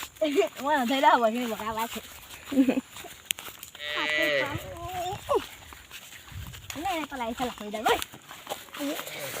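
Several drawn-out cow moos, fairly close, with a person talking in between and over them.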